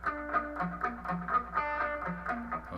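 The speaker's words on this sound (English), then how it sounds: "And we're muting down here with our palm, so we get this..." Distorted electric guitar playing the palm-muted barred chord riff from a song, a chugging, rhythmic pattern of short muted strums with ringing higher notes, close and steady at moderate volume, no voices.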